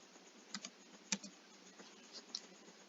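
A formula is entered into a spreadsheet on a computer keyboard, producing a few soft, sparse key clicks, quiet and close, with no one talking.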